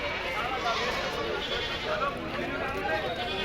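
Goats bleat in a noisy outdoor crowd of animals at a village goat market, several calls overlapping and fairly close, with people talking in the background.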